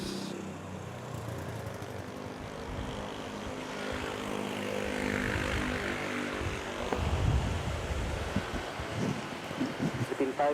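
An Airbus A321 takes off from runway 06 at Manila's NAIA airport, its engine roar building steadily from distant to loud and broad over about ten seconds, with people talking faintly underneath.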